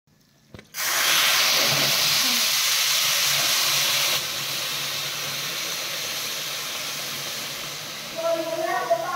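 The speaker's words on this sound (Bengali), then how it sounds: "ভাজা হয়ে গেছে, এবার জল দিয়ে দেবো।" Hot water poured onto fried rice for pulao bursts into a loud, sudden steaming hiss that holds strong for several seconds, then eases to a lower sizzle, with a voice briefly speaking near the end.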